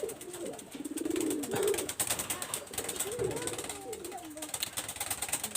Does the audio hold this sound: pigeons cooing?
yes